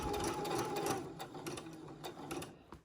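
A sewing machine runs slowly while stitching a seam, a close, quiet, rapid mechanical chatter with a few faint clicks, steady throughout with no talking.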